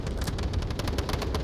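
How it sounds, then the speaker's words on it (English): Rapid, steady bursts of gunfire in a competitive video game match, a dense stream of loud close shots with even spacing, no voices over it. "He's using his pistol."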